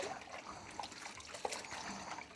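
Hot soapy water trickles and splashes while a thrift-store bread machine is being washed, a steady wet dribble with a few small sloshes and drips.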